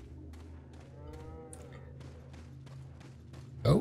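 A cow in Resident Evil 4: Separate Ways gives low, drawn-out moos over eerie game music, and a loud, close thump lands near the end.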